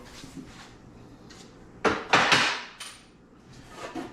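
Metal number stamp struck with a hammer into a 1974 Big Block Chevy 454 engine part, a few sharp close impacts with a cluster of three or four blows in the middle, over faint shop background.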